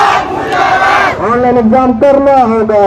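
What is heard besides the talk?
crowd of students chanting protest slogans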